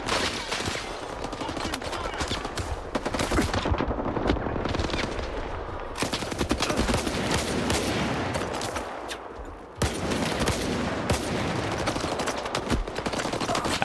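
Gunfire in the shooter game S.T.A.L.K.E.R. 2: Heart of Chornobyl, dense rapid automatic bursts and repeated shots rattling almost continuously, loud and close, with a brief lull before firing picks up again.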